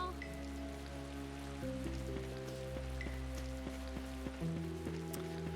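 Steady rain falls in the role-playing video game Tales of Vesperia, a soft continuous patter under tonal game music with sustained chords, no voices.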